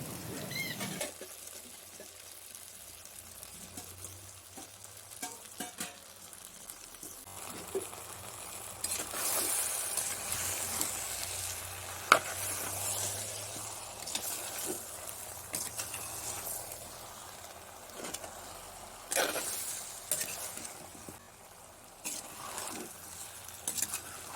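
Chicken pieces for a chicken curry sizzle in the pot, a faint, steady frying hiss with occasional stirring scrapes and soft pops, no talking.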